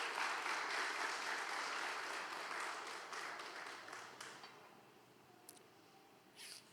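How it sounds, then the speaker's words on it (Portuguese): Sustained applause from a large church congregation, loud at first and gradually fading, with a few scattered claps and faint voices at the end. "Fique de pé no nome de Jesus, aleluia, e aplauda ao Senhor"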